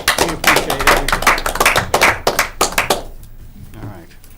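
Attendees at a conservation commission meeting clap loudly together for a departing agent, a dense burst of close hand claps that thins and fades out after about three seconds.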